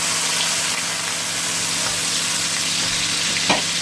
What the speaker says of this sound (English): So what we need to do is just sizzle the ginger and garlic off.